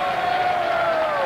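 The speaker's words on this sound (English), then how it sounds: "An enthusiastic crowd here in Virginia Beach at the Pavilion." An enthusiastic crowd at the Pavilion in Virginia Beach, at a PBA bowling tournament, the Ebonite Challenge. A loud, sustained burst of cheering rises, with a prominent whoop riding on top.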